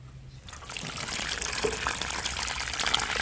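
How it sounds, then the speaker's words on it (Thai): Water poured onto a potted syngonium growing in an airy, fast-draining planting mix, trickling and splashing steadily and close by from about half a second onward, with no one talking. "พอเรา ทำการปลูกเสร็จเราก็ทำการรดน้ำเนาะพี่น้อง"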